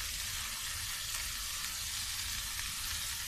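Spices sizzling in hot oil with sautéed garlic and ginger, a dense, even hiss of frying that stays constant and fairly quiet from start to finish, no talking.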